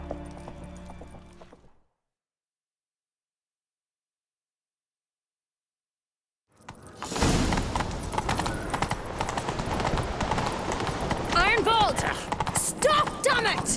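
Horse hooves gallop in The Witcher 3 video game: loud, rapid clip-clop rhythm that bursts in after a few seconds of silence and continues steadily, with a brief game voice near the start.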